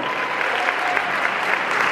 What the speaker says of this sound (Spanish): Un aplauso grande a la pareja número uno.